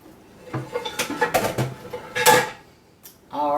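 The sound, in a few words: dish being set in the sink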